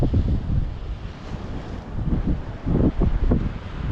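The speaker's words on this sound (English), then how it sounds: "It's rather windy here, and we are definitely getting the pinwheel moving." Strong wind blows outside, a steady roaring rush with buffeting gusts hitting the microphone, loud and continuous with no talking.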